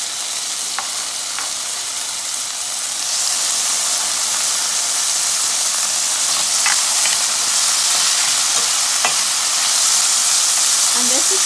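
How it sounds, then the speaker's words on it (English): Tomatoes and spices fry in hot oil, a loud steady close sizzle and hiss that swells a little partway through, with occasional scraping stirs and clicks over it. "So I can see some sizzling action going on there."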